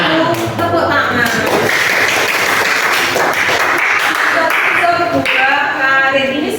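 A school class claps hands together in a loud, continuous burst, with children's voices and cheers mixed in throughout the applause.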